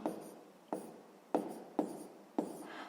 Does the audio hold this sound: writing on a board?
yes